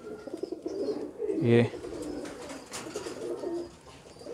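Pigeons on a pigeon farm in Faisalabad coo in soft, low rolling calls, one fuller coo rising clearly near the middle, while someone speaks briefly nearby over a faint background murmur.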